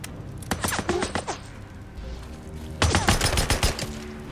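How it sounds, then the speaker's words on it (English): Bursts of rapid gunfire from the video game Days Gone, one volley early on and a second louder, denser burst near the end, with sharp cracks separated by a short lull. "Taking a lot of bullets, bro."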